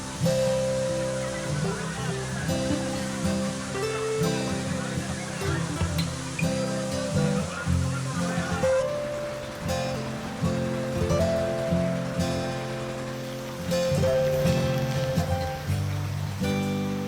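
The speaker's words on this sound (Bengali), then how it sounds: "জলের গর্জন ছলছল শব্দ আর ঝর্ণার সাদা ধারার পাহাড়ের সৌন্দর্যকে বাড়িয়ে তোলে বহুগুণ" Steady rushing water of a mountain waterfall in the monsoon rains roars continuously throughout, layered under a loud musical background.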